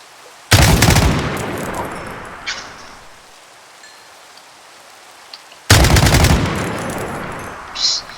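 Two long bursts of rapid automatic Kalashnikov gunfire in Minecraft, several seconds apart, each loud and sustained, with quiet game ambience and faint clicks between them.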